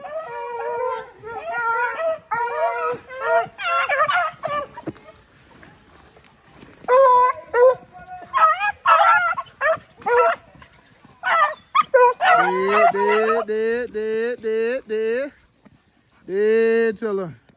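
Pack of hunting dogs baying and howling on a swamp rabbit chase, repeated loud, close bawls and yips in bursts with short gaps, a voice briefly mixed in.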